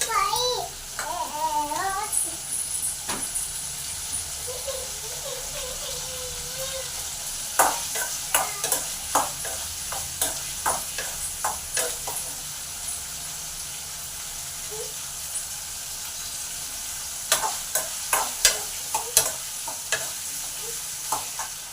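Cinnamon and cloves frying in a pan give a steady low sizzle, broken by repeated sharp scrapes and taps of stirring that come in clusters, with a voice briefly at the start.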